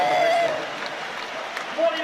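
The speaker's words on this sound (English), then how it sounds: "the crowd are still going berserk, applauding this Japanese team" A stadium crowd keeps applauding the Japanese rugby team after its historic 2015 win over the Springboks. The steady roar and clapping sit far back, mostly under a commentator's voice.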